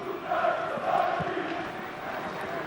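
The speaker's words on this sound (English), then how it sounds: "Lucas Podolski collecting the applause." Football stadium crowd at a Czech Republic versus Germany Euro qualifier applauds Lukas Podolski as he is substituted off, a steady broad roar of clapping and cheering that swells slightly in the middle.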